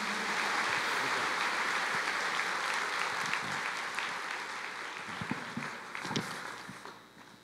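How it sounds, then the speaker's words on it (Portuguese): A church congregation claps for the Lord during a morning worship service, a dense, steady wash of many hands that holds strong and then thins slightly toward the end, with a few sharper claps standing out. "Vamos aplaudir ao Senhor?"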